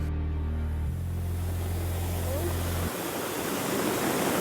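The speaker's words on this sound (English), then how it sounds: "It's a two-tiered waterfall." A two-tiered waterfall swollen by monsoon rains roars as a constant broadband rush, loud and steady, with a low hum beneath it at first and no speech.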